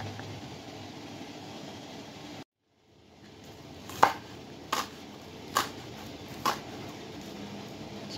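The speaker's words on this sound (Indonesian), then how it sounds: "kita lanjut untuk mengiris bumbu-bumbu yang mau diiris" A knife slices spices on a cutting board for spicy pindang fish with tauco, with four sharp, evenly spaced chops after a brief silence over soft kitchen background noise.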